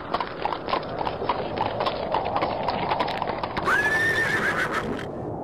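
A merchant's horse on a forest path: steady, close clip-clop of hooves throughout, then a loud, high whinny rising and trailing off near the end.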